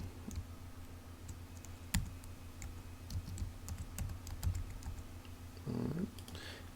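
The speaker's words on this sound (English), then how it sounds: "I'm going to double click on this T and I'm going to start typing." Quick, light clicking of keys on a computer keyboard, irregular bursts of typing up close, with a brief low hum near the end.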